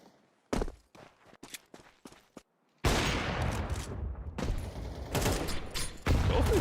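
Counter-Strike gunfire in a competitive match: a series of sharp, close shots in short bursts, followed by a denser, continuous stretch of heavy firing and action.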